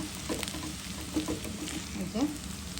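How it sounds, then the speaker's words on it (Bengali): Papaya, potato and carrot bhaji fries in a pan with a steady close sizzle, a few scraping stirs rising above the crackle across the short stretch, no voices present. "আর একটু ভাজা ভাজা করবো"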